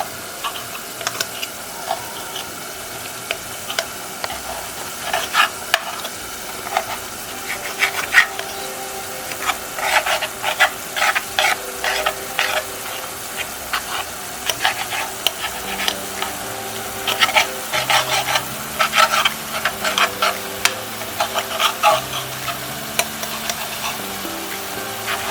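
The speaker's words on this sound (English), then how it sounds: "my fried eggs with a spoon like this. You cut it into small pieces." Spoon scraping and chopping fried eggs into small pieces in a frying pan, with repeated sharp clinks and scrapes against the metal over a soft sizzle, close and fairly loud, coming in irregular bursts with no talk.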